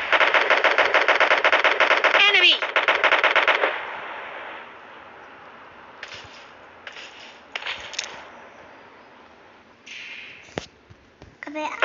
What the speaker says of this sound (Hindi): फायरिंग, इधर फायरिंग हो रही है, इधर हो रही है।